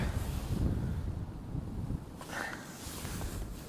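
Steady wind buffets the microphone out on the ice during ice fishing, a low continuous rush and rumble that swells and eases slightly throughout.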